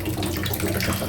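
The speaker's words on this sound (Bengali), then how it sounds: "চলো ভাতে জলটা দিয়ে দিই।" Water pours steadily into a pot of rice, a close, continuous splashing rush with no talk over it.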